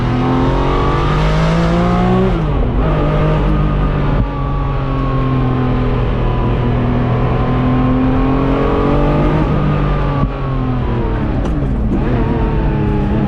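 Ferrari F50 engine revving hard while being driven, a loud, steady high-pitched wail with rising and falling pitch through gear changes, close and continuous throughout.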